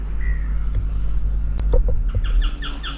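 Small birds chirp in short repeated bursts at an outdoor campsite, the calls clustering toward the end over a constant low rumble of wind and ambience, with a few faint knocks in between.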